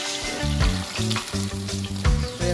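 Fish fries in hot oil with a steady crackling sizzle, overlaid by a strong repeating low hum and bursts of clatter, close and fairly loud.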